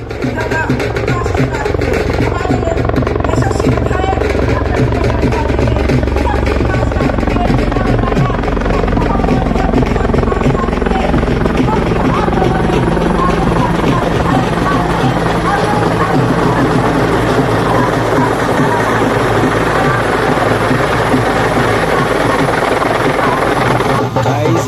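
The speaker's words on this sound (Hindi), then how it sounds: "इसी हेलीकॉप्टर से बाबा साहब का आगमन हो रहा है।" A helicopter arrives at a political rally in Chirmiri, Chhattisgarh, its loud, steady rotor and engine roar filling the whole stretch, with crowd voices and talk mixed in underneath.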